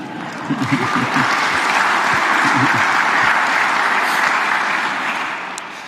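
Sustained applause from a large audience at a live political address, a steady dense wash of clapping lasting several seconds with no one speaking over it.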